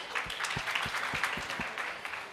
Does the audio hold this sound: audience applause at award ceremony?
yes